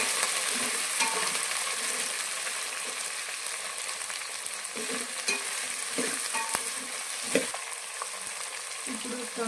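Beans, coriander and curry leaves frying in hot oil: a bright continuous sizzle with light crackle, close up, and occasional soft knocks and stirring clatter from the pan.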